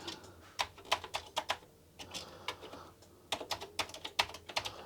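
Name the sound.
typing on a dirty Commodore 64 keyboard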